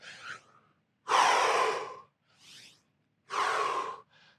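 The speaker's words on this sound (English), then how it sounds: "Breathe in, breathe out." Heavy breathing during a bodyweight martial arts workout: four loud, close exhalations and inhalations in a steady rhythm, with short quiet gaps between the breaths and no talking.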